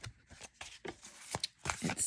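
A tarot and oracle card deck is shuffled by hand, giving a run of crisp, riffling card bursts in quick irregular succession, close and fairly quiet with no talking.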